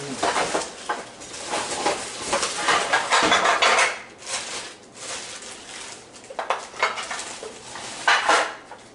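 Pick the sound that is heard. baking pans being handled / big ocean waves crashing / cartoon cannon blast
baking pans being handled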